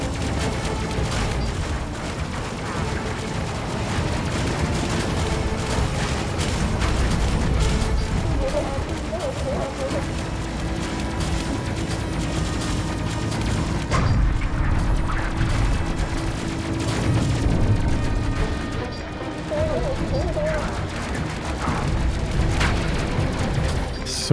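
Explosions in the Space Crew video game during a battle at the Phasmid homeworld: a dense, continuous barrage of booms and blasts layered together, steady and loud throughout, with voices mixed in.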